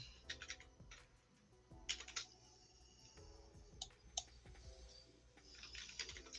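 Rapid keystrokes on a computer keyboard, clicking in uneven bursts and short pauses, close and fairly quiet with no talking.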